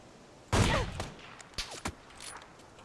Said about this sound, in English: Where was I getting shot from then?